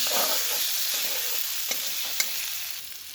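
Spice paste for an onion-free okra curry sizzles steadily in a pan, with a few soft spatula scrapes and taps during stirring, close and without speech.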